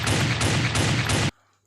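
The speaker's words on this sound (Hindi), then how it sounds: "फ्लोरिडा ने अंधाधुंध गोलियां बरसा दी थी" Rapid, indiscriminate gunfire in a Nagraj comic audio drama forms a loud, dense burst of repeated shots lasting just over a second, then cuts off abruptly into near silence.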